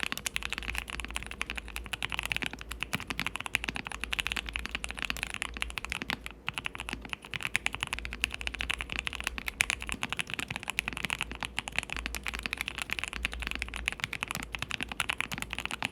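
Fast, continuous typing on a QK65 mechanical keyboard fitted with gasket jackets, a dense stream of solid, low-pitched key clacks heard close and alone.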